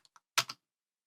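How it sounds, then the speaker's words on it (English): A few quick keystrokes on a computer keyboard as a command is typed into a terminal, two light taps followed by a louder cluster of clacks, close and dry with no talking. "you should be able to type docker container run hello-world,"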